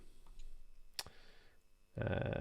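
A few light clicks on the keyboard of a Palm III X handheld, sparse and close, then a sharp tap and a sudden burst of louder rustling noise toward the end.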